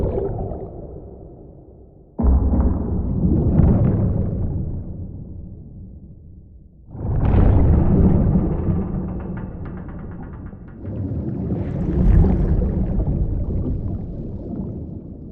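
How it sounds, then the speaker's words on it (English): Muffled, underwater-sounding booms built from water sounds mixed with explosions come in three heavy, rumbling bursts, each swelling suddenly and then decaying over several seconds. "If you combine broadband bubbles, water lapping, waves crashing, or even rivers flowing with things like explosions or even vocals, you can submerge just about anything you would like underwater"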